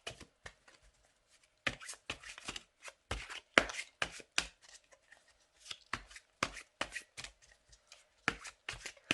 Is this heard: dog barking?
no